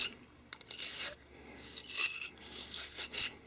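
A cleaning brush scrubbing back and forth inside the metal barrel of a Baby Desert Eagle II 9mm pistol, several close, raspy strokes in an uneven rhythm.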